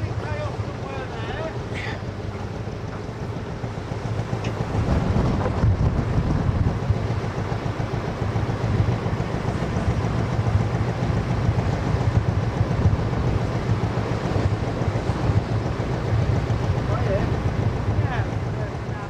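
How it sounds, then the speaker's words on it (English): Strong wind buffets the microphone around a narrowboat coming off its mooring, a loud continuous roar and rumble that gusts harder after the first few seconds, with faint voices underneath. "the wind got us, and it just suddenly got so strong, blowing us sideways"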